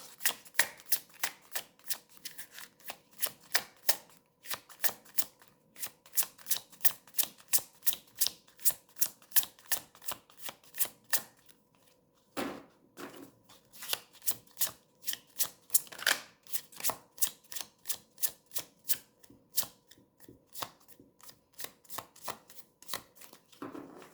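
Tarot cards being shuffled in a long run of crisp, rapid riffling bursts, close and fairly loud, with a brief pause near the middle before the shuffling resumes.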